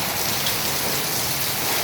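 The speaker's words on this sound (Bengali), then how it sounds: "দেখেন প্রচণ্ড পরিমাণ বৃষ্টি" Heavy rain pours steadily during a kalbaishakhi storm, a dense, loud, continuous hiss of downpour with no break and no voices.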